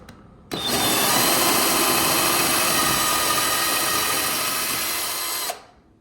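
A close, loud power drill runs continuously for roughly five seconds, a high steady whine that cuts off sharply.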